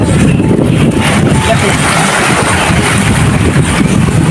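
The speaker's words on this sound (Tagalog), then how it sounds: "Ang lakas ang alon." Strong sea waves at Patongan Beach in Maragondon, Cavite, make a loud, constant roar mixed with heavy wind buffeting on the microphone, with no break throughout.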